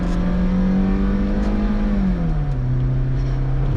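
A naturally aspirated car engine taken to full throttle, a loud sustained drone that holds steady and then drops in pitch as the gear or load changes, close and continuous.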